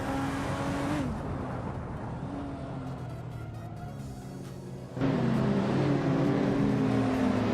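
Engine of a classic 1988 Porsche 944 Turbo S in a racing video game at a short track, a steady droning note with pitch shifts and a louder surge of revving midway, accompanied by other cars.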